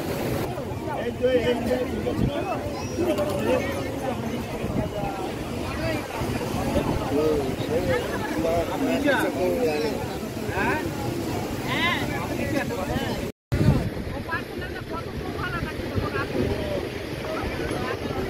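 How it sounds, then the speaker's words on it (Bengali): Wind blows steadily across Digha sea beach, buffeting the microphone with a low roar and faint surf behind, while people talk nearby throughout. "আমরা এখন বসে আছি দীঘা সমুদ্রের ধারে। ও আজকেই হাওয়া দিয়েছে।"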